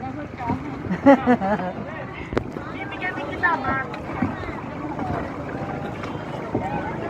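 A small boat knocks and sloshes on the water near a cave while wind buffets the microphone, with bumps and splashes under close, ongoing conversation.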